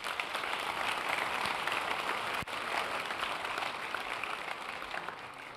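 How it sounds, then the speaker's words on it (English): Steady applause from an audience at a Boys State civic gathering, honoring candidates who ran for office; a broad, moderately distant wash of clapping that continues evenly for several seconds with a brief dip partway through. "Let's give them a round of applause."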